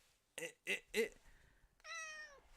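A pet cat gives three short, close meows in quick succession, then one longer drawn-out meow after a brief pause. No one speaks.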